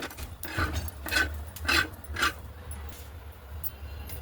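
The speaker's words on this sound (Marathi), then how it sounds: "त्याच तव्यावर मी खोबरं भाजून घेते। खोबरं छान सोनेरी कलर येईपर्यंत भाजून घ्यायचं।" Grated dry coconut roasted and stirred on a griddle, heard as four rhythmic scraping rasps about half a second apart, followed by quieter faint scratching, close up with no talking.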